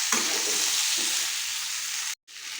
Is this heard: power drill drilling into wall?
no